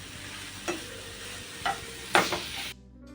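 Salt is stirred into a spice masala for cauliflower bhurji in a pan, a soft steady sizzle with three distinct spoon scrapes against the pan, the last one loudest, then a quieter tail.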